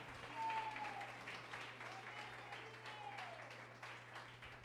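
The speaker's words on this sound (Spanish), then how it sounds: "Den un aplauso fuerte al Señor" A church congregation in Medellín applauds during a worship service, faint sustained clapping with a steady low hum and some murmuring voices underneath.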